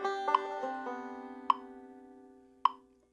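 Banjo picking the melodic part of Cripple Creek: a few plucked notes ring out and sustain, with sharp plucky attacks spaced about a second apart, close and fairly quiet, with no talk.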